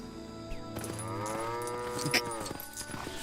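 A cow in the Lego Jurassic World video game lets out one long, loud moo across most of the moment, with clip-clop hoof sounds and game noise around it.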